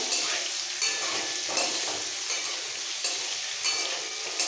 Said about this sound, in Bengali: ডিম ভাজা হয়ে গেছে তুলে নেব